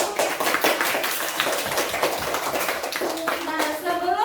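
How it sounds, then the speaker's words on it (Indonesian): A class of schoolchildren claps hands in a classroom, quick uneven claps mixed with children's voices chattering throughout. "Beri tepuk tangan dulu buat kalian seluruhnya"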